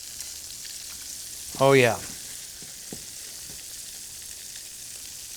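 Shrimp frying in hot oil for Nashville hot shrimp gives a steady, soft sizzling hiss throughout, broken once by a short spoken exclamation.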